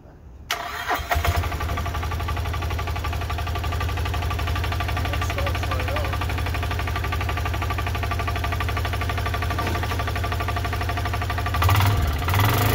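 A diesel ATV engine cranks briefly, then catches and settles into a loud, steady knocking idle close by, with a faint rise near the end.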